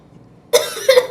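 Two quick, harsh coughs close by after a moment of near silence, the second slightly longer than the first.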